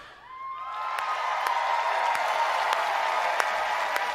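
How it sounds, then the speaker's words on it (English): Studio audience at a Late Show with Stephen Colbert taping cheering and clapping after a live performance, a broad steady roar of applause with scattered sharper claps, building in over the first half-second and holding full. "they are cheering on, so that is good"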